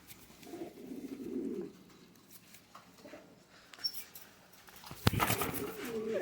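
Kasuri high flyer pigeons coo softly in low, rolling bursts, with wing flaps and light handling noises breaking in near the end.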